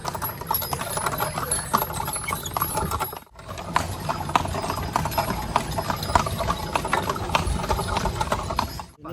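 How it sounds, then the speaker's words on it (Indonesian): Horse hooves clip-clop steadily and close by during a horse ride near Borobudur temple in Magelang, Central Java, a continuous rhythmic clatter with a brief pause partway through and no talking. "Naik kuda nih"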